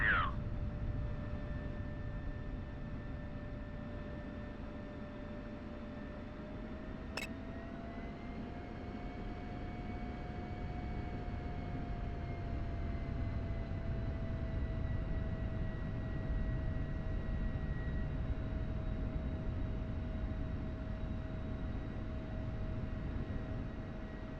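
F-16 jet engine idling and taxiing to the runway in the DCS flight simulator, a steady whining drone with a sustained rumble, constant and close throughout.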